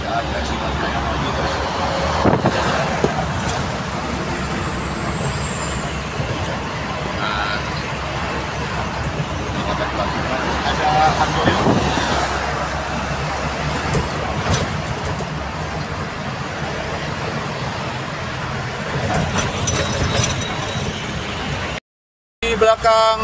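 Buses and cars driving along the Jakarta-Cikampek toll road in the morning, a steady broadband roar of passing traffic with engine rumble throughout, briefly cut near the end.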